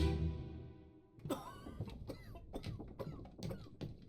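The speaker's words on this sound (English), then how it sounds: "Coughing." In Return of the Obra Dinn, a man wracked by a lung sickness gives a deep, loud cough, followed by a run of strained, rasping wheezes and short breathy coughs that fade out.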